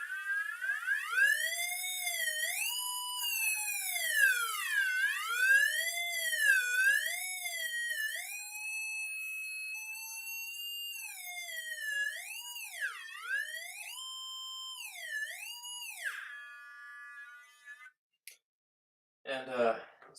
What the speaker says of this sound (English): theremin my mini theremin that I built